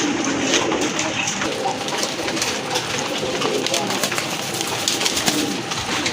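Pigeons coo steadily in a noisy, crowded pigeon farm, with people talking and general bustle mixed in throughout.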